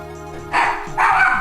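Dogs bark in the room, two loud close barks about half a second apart over a steady background of game music.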